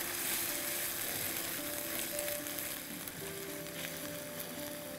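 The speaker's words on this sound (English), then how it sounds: "The greens have been frying" Mashed mustard greens frying in masala for sarson ka saag, a steady close sizzle with soft crackling and faint stirring throughout.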